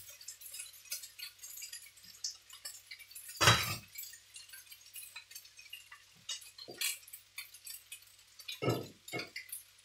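Dishes and cutlery clatter faintly while pasta is plated in a home kitchen, with scattered light clinks and one sharper clack, fairly quiet and close, with no talking.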